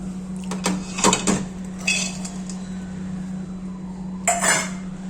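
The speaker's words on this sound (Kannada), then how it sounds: "ಈ ದ್ರಾಕ್ಷಿನೂ ಅಷ್ಟೇ ತುಪ್ಪ ಹಾಕಿ ಹುರಿತಾ ಇದ್ದೀನಿ." Metal utensils clink and scrape against a pan while raisins fry in ghee, with a few sharp clatters over a steady low stove hum and no talking.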